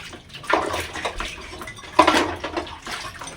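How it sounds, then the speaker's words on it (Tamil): Running water splashes over ladles being washed, in two louder bursts a second and a half apart, with light metallic clatter of the utensils between them. "கரண்டியை கழுவி கழுவி வச்சிடலாம்"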